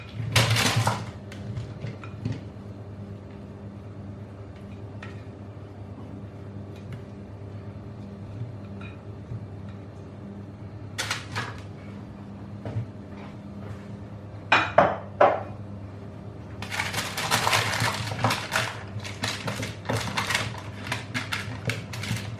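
A Brussels sprout and potato mixture is poured onto a parchment-lined baking tray, giving scattered clatters and rustling bursts that grow busier toward the end over a quiet kitchen hum.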